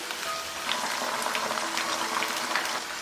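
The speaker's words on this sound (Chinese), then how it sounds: "我们用中大火来炸，用筷子轻轻搬动一下，防止它粘连。" Razor clams deep-frying in hot oil over medium-high heat, a close steady crackling sizzle with dense bubbling pops throughout, no voices.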